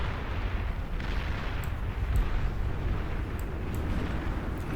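Dense, continuous rumbling explosions and weapon fire from a Beyond All Reason real-time strategy battle, with depth charge launchers and turrets, heavy low booms layered close together without pause.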